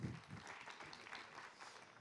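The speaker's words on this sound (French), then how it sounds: "Vous pouvez l'applaudir" A conference audience at an audio industry event in Paris claps, a brief faint patter of applause that fades over about two seconds.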